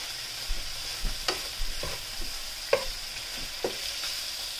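Sugar caramelizing in a pan for pork adobo sizzles softly beneath a series of sharp stirring scrapes and knocks, each a brief close clatter repeating at uneven intervals, with no voices.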